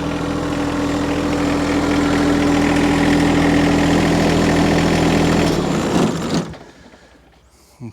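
Mini excavator engine idling close by, a steady low rumbling drone that cuts out near the end as the engine is switched off, leaving quiet.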